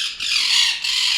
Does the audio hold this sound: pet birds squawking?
yes